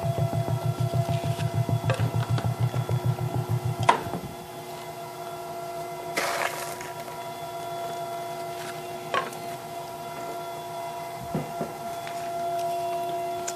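Commercial food machine grinding cookies into cookie butter (Speculoos) at raised speed, a steady pulsing motor hum for about four seconds, then a quieter lingering mechanical drone with occasional clacks and scraping knocks.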